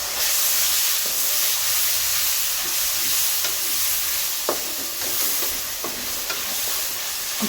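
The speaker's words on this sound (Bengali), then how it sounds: "একটু কষিয়ে নেব" Ginger and garlic paste sizzles and fries in a pan, a loud, constant hiss close by with occasional scrapes and clinks of stirring.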